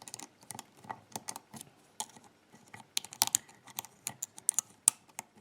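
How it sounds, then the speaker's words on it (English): A homemade lock pick works a slider lock with active top pins, producing faint, irregular metallic clicks and scratchy ticks in quick clusters, close and quiet with no talking. "There's a nasty sound coming from the pick, but it still holds very, very good."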